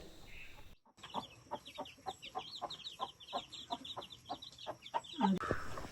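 Soft, rhythmic clucking from a hen and her chicks, a steady series of short calls close by with high chirping layered over it, continuing throughout.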